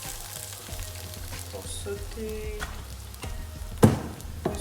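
Oil crackles and sizzles steadily in a frying pan, ready for sautéing peppers for chicken gizzards, with a couple of sharper clatters near the end and a brief spoken word.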